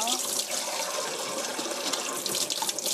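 Running tap water pouring over button mushrooms as they are rubbed and washed at a sink, a steady close splashing flow throughout.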